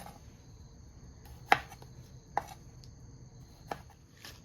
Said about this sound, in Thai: ที่เราต้องหั่นมะเขือเทศเนี่ยเราใช้เป็นลูกเล็กแบบนี้นะคะ เพราะฉะนั้นเราก็แค่ผ่าแบ่งครึ่งก็พอนะคะ